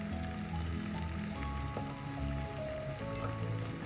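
Chili, turmeric, coriander and black pepper powders sizzle steadily as they roast in hot oil for a Kerala mackerel fish curry, a continuous close crackle with light stirring scrapes and no voices.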